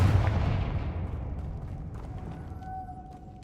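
Confringo explosive spell cast in the video game Hogwarts Legacy: one deep booming blast hits at the start and fades out in a long rumbling tail, with a faint tonal whine at the end.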